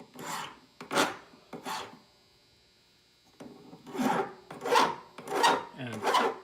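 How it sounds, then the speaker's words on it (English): A sanding disc smooths a hand-fabricated metal pendant in bursts of close, raspy grinding, several strokes separated by a short pause, loud and alone. "I'll go in with my sanding disc."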